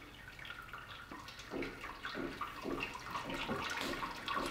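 Sparge water poured over a grain bag during stovetop brewing of a session IPA, a steady close splashing and trickling stream that swells slightly and continues throughout with no talking.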